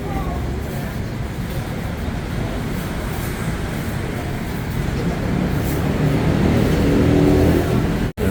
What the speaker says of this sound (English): traffic going by, right under the BTS Phrom Phong